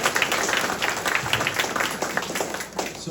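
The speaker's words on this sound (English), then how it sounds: "I'd like to give everyone a round of applause." A town hall audience against data centers breaks into sustained, lively applause, a dense roomful of clapping hands that carries on steadily throughout.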